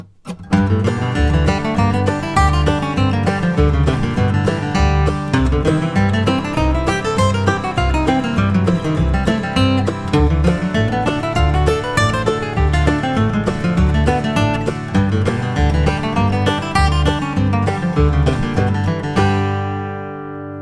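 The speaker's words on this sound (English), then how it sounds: "So I'm going to play this along with a strum machine backing track at about 100 beats per minute" Bluegrass guitar lead lines played over a strum machine backing track at about 100 bpm, steady rhythmic strumming beneath flowing picked scale runs, loud and close with no talking.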